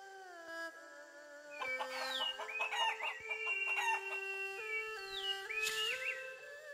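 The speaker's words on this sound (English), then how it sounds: "Try catching ten of those chickens." Chickens in the video game Shenmue III cluck and crow in repeated bursts, set against steady tonal game sounds, with no one talking.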